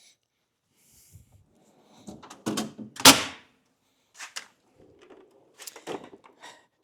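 A tool box drawer holding pliers slides open with a few sharp clunks and rattles, one loud central thud among lighter scrapes and knocks, close and in an otherwise quiet room.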